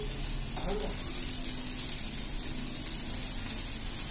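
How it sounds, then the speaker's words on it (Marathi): Ready-to-cook crispy chicken wings dropped into hot oil, giving a constant dense crackling sizzle that stays even from start to finish, with faint background noise. "आता आपण हे डायरेक्ट तळायचं आहे नुसतं आपल्याला"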